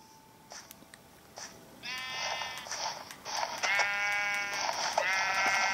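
Blocky Minecraft sheep bleat repeatedly, several buzzy wavering cries overlapping and growing louder and closer after a few faint clicks and footsteps, with no speech.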